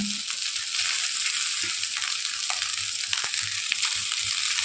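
Rice goes into a hot frying pan of egg fried rice, producing a continuous crackling sizzle close by, broken by soft scraping and tossing sounds as it is worked in.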